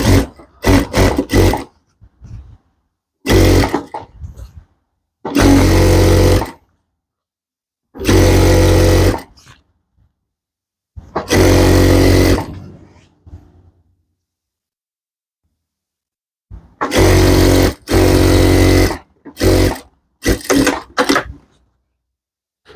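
A sewing machine stitches fabric in small seams on the back section of a piece, running in short, loud bursts of a second or two with quiet pauses between them and no talking.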